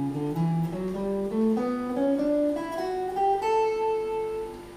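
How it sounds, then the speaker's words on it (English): Guitar runs up an A mixolydian scale shape over an A dominant chord in a jazzy blues setting, a rising line of single notes, clear and close, with no talking. "Over the first chord, A dominant,"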